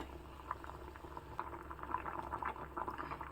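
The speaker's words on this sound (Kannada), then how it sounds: "ನೋಡಿ ಎಷ್ಟು ಚೆನ್ನಾಗಿ ಕುದಿ ಬರ್ತಾ ಇದೆ ಅಂತ" Huli, a tamarind curry, boiling steadily in a pot, with soft irregular bubbling and popping at a quiet, even level and no voices.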